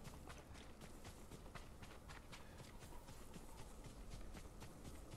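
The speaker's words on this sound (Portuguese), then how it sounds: "Olha lá o cavalo." Horse hooves clopping at a steady running gait in the video game Ghost of Tsushima, a continuous rhythmic patter of hoofbeats close by over a dense bed of ambient game sound.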